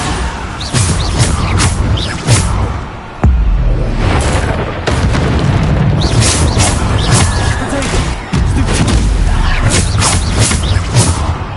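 Bombarda blasting spells boom repeatedly in the Hogwarts Legacy video game, loud explosions and crashing impacts layered over continuous battle noise throughout.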